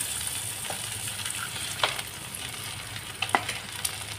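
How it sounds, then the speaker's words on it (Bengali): Marinated rohu fish pieces frying in hot oil, a steady low sizzle with a few sharp spits and pops as pieces settle in the pan, heard alone without talk. "আমি এবার মাছটাকে, এই ম্যারিনেট করা মাছটাকে আমি ভেজে নেব"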